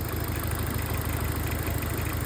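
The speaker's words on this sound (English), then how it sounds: "There's definitely a weird noise coming from the engine." A project car that has gone untested for years runs with an odd noise from the engine, a steady, loud idle with a low rhythmic pulsing and a constant broadband hum, with no one speaking.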